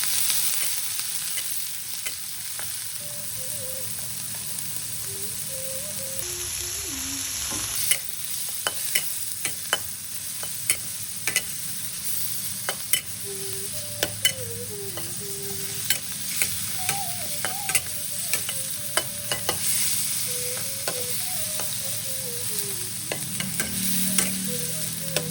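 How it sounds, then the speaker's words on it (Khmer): Pork and garlic stir-frying in a pan give a steady sizzle, broken by frequent sharp scrapes and clacks of stirring throughout, with a faint melody running in the background and no talk. "បំពងខ្ទឹមហើយខ្ញុំដាក់សាច់ចូល"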